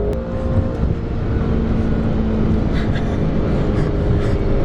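A tuned 600 hp BMW M5 F10 four-door sedan accelerates hard with a loud, sustained engine roar and whine that climbs slightly, heard from inside or close by, with no talking.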